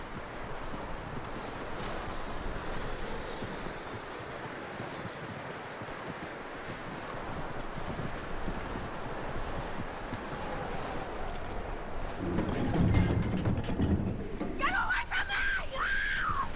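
Horse hooves clip-clop steadily in Red Dead Redemption 2 under outdoor ambience, with talking and a shout or scream near the end over the hoofbeats.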